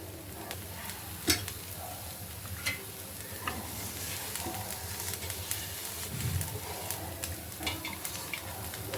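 Spinach pancake batter frying in a pan on a gas stove turned to medium: a steady close sizzle runs throughout with occasional soft clicks and stirring scrapes, no voices.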